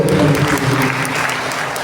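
A church congregation applauds during a Maundy Thursday Mass at St Francis Xavier's Church. Dense, loud clapping from many hands fills the space, then eases slightly.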